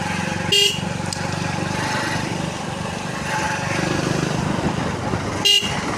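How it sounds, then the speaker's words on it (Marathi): Vehicles sit in a blocked traffic jam on a village road, engines droning loudly and continuously with two short horn honks, one near the start and one near the end. "इकडे पूर्ण गाड्या पूर्ण ब्लॉक झालेले आहे"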